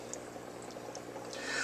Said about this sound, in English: I turn the air back down to a more or less a gentle, you can see the bubbling right there.